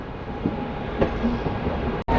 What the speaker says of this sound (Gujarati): ચાલો મિત્રો આપણી ટ્રેન હવે કરશે એક્સિલરેશન અહીંથી